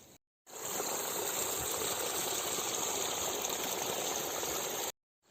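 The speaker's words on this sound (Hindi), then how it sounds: "तो ये देखिए मेरे मटर के खेत में पानी लग चुका है" Irrigation water flows steadily into an organic pea field, a constant close gushing rush with no pauses, framed by brief silence at either end.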